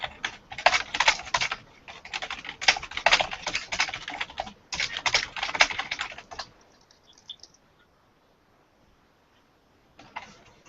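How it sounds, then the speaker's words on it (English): Fast clattering keystrokes on a computer keyboard come in dense bursts for several seconds, then stop, with a brief return of typing near the end; close and clear, no talking. "I can hear Skull Hat's typing fine"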